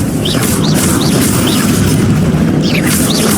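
Confrigo spell explosions in Hogwarts Legacy, heavy booming blasts layered over a loud, continuous rumble, with faint whooshing spell sounds recurring near and loud throughout.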